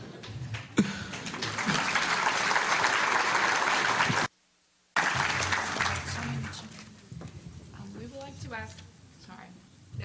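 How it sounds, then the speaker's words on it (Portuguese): Sustained applause from an audience, loud and dense, breaks off abruptly for a brief silence and then resumes before fading as a voice begins to speak. "We hold our applauses until the end, so we have more time for questions."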